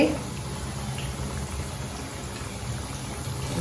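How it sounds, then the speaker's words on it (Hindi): Onion pakoras made without gram flour deep frying in hot oil, a steady dense bubbling sizzle with no breaks, close and fairly loud throughout. "ये एक एक करके हम सारे पकौड़े तलेंगे"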